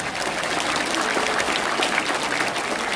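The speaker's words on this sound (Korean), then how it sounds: "그때 박수 한번 쳐." Sustained applause from an audience at a lecture on Korean War history, a dense, steady clapping that fills the whole stretch at an even, close level.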